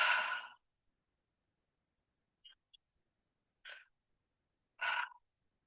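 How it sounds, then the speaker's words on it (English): Breathwork demonstration of breathing into the belly and chest, then exhaling. A few soft, close breaths are separated by silence: one longer breath at the start, then two short airy breaths near the end, with no talking. "I'm going to breathe into my belly and then into my chest, and then I'm going to exhale."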